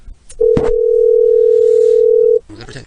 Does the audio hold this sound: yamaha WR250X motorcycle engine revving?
no